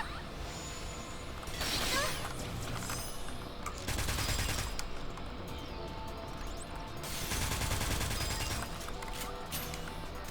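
A full-auto sniper rifle fires like a machine gun in Sword Art Online: Fatal Bullet, producing loud sustained bursts of rapid shots over a constant background of game noise.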